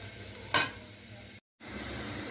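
Beef tripe frying in a pan, giving a steady hiss with one louder stirring scrape, a brief dropout, and another clatter at the end.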